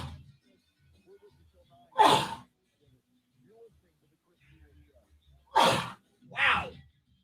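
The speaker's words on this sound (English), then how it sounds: "I have to sneeze." A single loud sneeze, then after a pause a double sneeze in quick succession, close-up in an otherwise quiet room.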